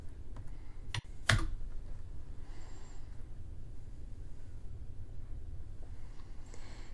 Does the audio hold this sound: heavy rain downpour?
no